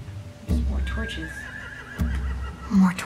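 In The Walking Dead: The Final Season video game, horses whinny and snort close by with a rising, wavering neigh. Low thuds and stable movement come through beneath voices talking in the scene.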